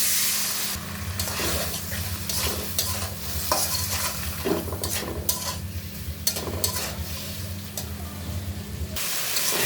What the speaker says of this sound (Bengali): তো দেখো মশলাটাও কষানো হয়ে গেল